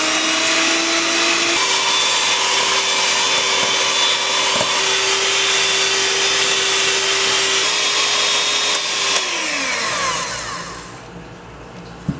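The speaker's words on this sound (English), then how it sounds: "You can use your hand mixer, works just as well, and beat your eggs." An electric hand mixer whirs loudly and steadily while beating eggs, then winds down and stops near the end.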